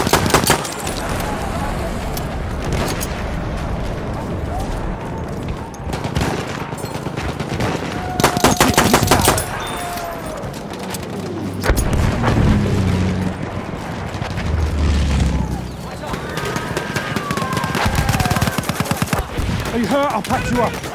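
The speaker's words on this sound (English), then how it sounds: "Enemy machine gun!" Enemy machine gun fire in the video game Battlefield 1, with rapid bursts and scattered shots over a constant battle din, explosions and rumble, interrupted at times by shouted soldier voices.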